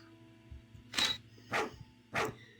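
A dog in an RPG Maker video game barks three times, evenly spaced, each bark short and clear over a quiet background of game music.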